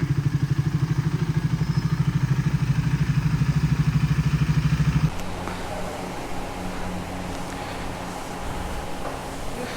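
A Duke 250 or RM250 motorcycle engine runs with a loud, steady pulsing throb for about five seconds, then drops to a rougher, quieter running sound with wind noise as the bike is ridden on.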